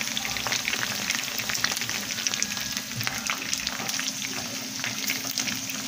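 Chicken wings and thighs frying in hot oil give a steady, dense sizzle with constant crackling and popping, loud and close, carrying on without a break throughout.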